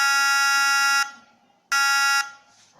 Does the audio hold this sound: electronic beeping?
yes